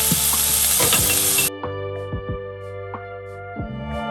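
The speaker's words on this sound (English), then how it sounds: "Now I'm going to add in sliced garlic and chopped ginger." Sliced garlic and chopped ginger hit onions in a pan for a Jaffna spicy mutton fry, bringing a loud crackling sizzle that drops sharply after a second and a half, leaving a quieter fry with light knocks and a steady hum.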